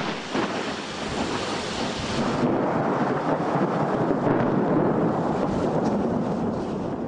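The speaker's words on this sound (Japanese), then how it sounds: "雷が鳴り、その後激しく雪が降る時間もありました。" Thunder rumbles during heavy snowfall in Matsue, Japan: a loud, sustained, roaring rumble with broadband wind-like noise that swells partway through and carries on without talk.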